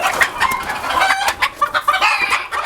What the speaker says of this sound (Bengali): এটাও জাপানিজ ব্যান্টাম। এটা হচ্ছে মল্টেড জাপানিজ, মানে খুবই ছোট প্রজাতির মুরগি।